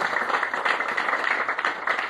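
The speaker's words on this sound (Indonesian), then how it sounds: "Beri tepuk tangan terbaik buat Tuhan." A church congregation applauds continuously, a dense steady wash of many hands clapping at moderate loudness for the whole stretch.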